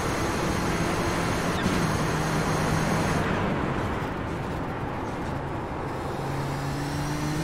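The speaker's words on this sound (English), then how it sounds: "GTOs are coming" GTO-class race cars in the Kamel GT racing game at Sebring roar past on track, a loud, continuous engine drone that holds steady with a slight swell and dip partway through.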